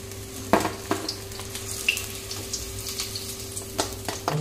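Paneer frying in oil in a kadhai for restaurant-style chilli paneer, giving a steady low sizzle with scattered sharp pops and clinks from stirring, heard up close with no talking.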